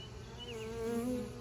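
Honey bees buzzing close by at a hive, a short steady drone with a few individual wingbeat tones rising and falling, no talk.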